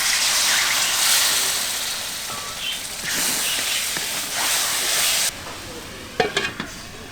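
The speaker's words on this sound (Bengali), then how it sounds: "এখন সামান্য পরিমাণ পানি দিয়ে কষিয়ে নেব" Spice paste of dried chili, cumin, turmeric and salt sizzles in a village kitchen pan as a little water is added. A steady frying hiss briefly softens, followed by a few light stirring scrapes near the end.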